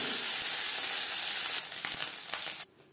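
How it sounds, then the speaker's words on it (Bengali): Small mourola sea fish fry in hot oil with a bright, dense crackling hiss, loud and close at first, then briefly broken by scraping bits before cutting off abruptly near the end. "পরের মাছ একইভাবে ভেজে নেব"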